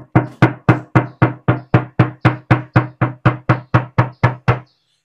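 A Honda WR-V body panel is knocked before sound deadening is fitted, giving a steady series of about sixteen loud, evenly spaced tinny knocks close up, with no talk.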